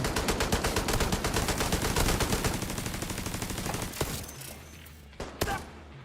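Turret gunfire in a video game: a long, dense, rapid automatic burst that fades after about four seconds, followed by a couple of isolated louder thuds.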